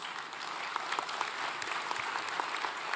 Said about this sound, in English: If you give them a great round of applause.